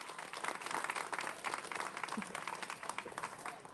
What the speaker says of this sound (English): please give a round of applause for these 2 ladies who are going to be in our future in public works